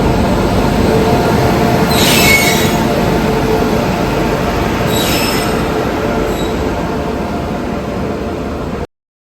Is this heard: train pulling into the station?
yes